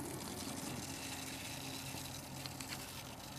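Coolant bubbling and gurgling in the cooling system of a 2003 BMW E39 530d Touring (142 kW diesel), a steady rushing, pumping wash of liquid that holds constant throughout, close to the engine bay.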